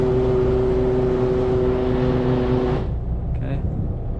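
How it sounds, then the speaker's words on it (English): A yacht's bow thruster running steadily with a loud, sustained mechanical drone and hum that cuts off abruptly near the end, leaving quieter wind and water noise. "Yeah, more thruster, because you've got wind pushing you, so you need lots of power."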